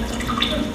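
Water runs steadily from a source held close to a microphone during a live demonstration, a continuous near hiss with no break over the short moment.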